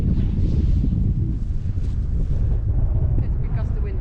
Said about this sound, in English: It's because the wind